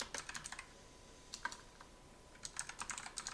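Code being typed on a computer keyboard in quick bursts of close, crisp key clicks, with a short pause in the middle.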